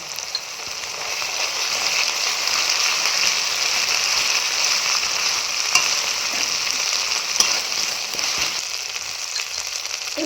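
Ginger paste hits hot oil with fried onion for a rohu fish curry with potato and cauliflower, producing a loud, steady sizzle that holds evenly through the clip, with a few faint stirring knocks and no talk.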